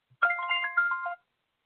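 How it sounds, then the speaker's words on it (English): A mobile phone ringtone plays a short run of electronic melody notes, fairly close and clear, stopping abruptly after about a second with no talk over it. "Sorry about that. That was my phone."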